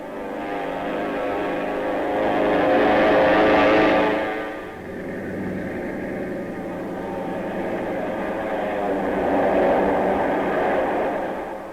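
A steady, droning World War II-era US airplane engine roar with a tonal hum, swelling louder early on, briefly dipping, then building again; no voices.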